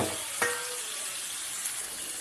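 Soy sauce hits a hot pan during a stir-fry for Filipino chop suey, giving a sharp sizzle burst followed by steady frying hiss, close and moderately loud, with no talking.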